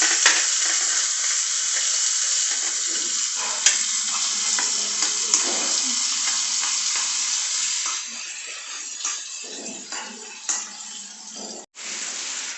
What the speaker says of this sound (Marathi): हिंग मातसो बरो घालपाचो, अर्दो चमचो सुमार, म्हणजे वास बरो येता. आनी हिरव्यो मिरच्यो घालपाच्यो.